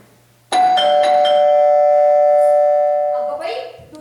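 A house doorbell rings close by with a single bright, sustained electronic chime that rings out for nearly three seconds, then fades as a voice briefly sounds at the end.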